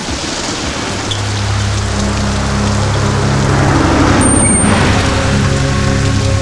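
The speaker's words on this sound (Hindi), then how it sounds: "भैया बारिश कितनी तेज है" Heavy rain pours down steadily in a dense, continuous hiss that swells slightly louder partway through, with a low steady hum underneath and no talking.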